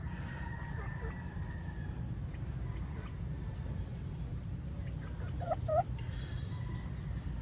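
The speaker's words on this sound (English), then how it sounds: "Such a cool chicken." Chickens at a chicken house in the Philippines give faint, scattered clucks and one brief louder call near the end, under steady low rumbling background noise.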